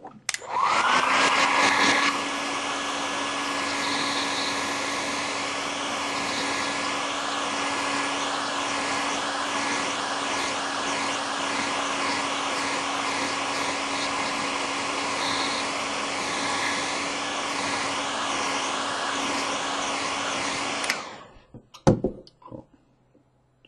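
A hair dryer blows steadily for about twenty seconds to dry an ink painting on paper, a loud close whooshing hum with a constant motor whine, then it is switched off, leaving a few brief handling clicks.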